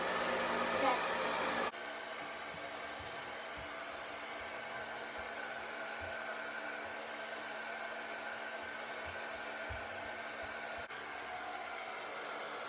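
A hair dryer blows on medium heat, a steady close whooshing hum that shifts once to a lower setting and then holds evenly.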